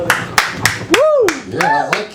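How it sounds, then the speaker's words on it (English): A few sharp, separate hand claps at an open mic night, spaced regularly, with a voice speaking over them in the middle. "Give it up, give it up. Big round of applause."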